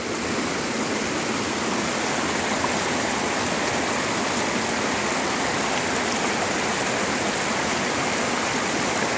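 Rushing water roars continuously and loudly, a dense steady wash of a fast mountain stream close by, with no other sounds standing out.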